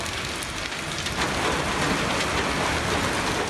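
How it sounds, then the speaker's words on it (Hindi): Torrential rain with hail in Lahore, a loud dense hiss of downpour that thickens after the first second and continues without pause, with no voices. "मूसलाधार बारिश के साथ देखते ही देखते ओले पड़ने शुरू हो गए।"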